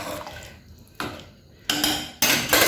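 A spoon works through khichdi in a pot, giving a few separate scraping, sloshing stirs that start abruptly and grow louder toward the end, with no talking.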